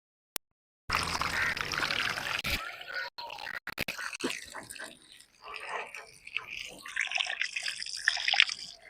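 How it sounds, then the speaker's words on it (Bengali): Raw mangoes washed under a rooftop tap, with running water pouring and splashing close by, then dripping and trickling in uneven bursts, and faint handling noises in between. "তো প্রথমে আমি আমগুলা ধুয়ে নেব।"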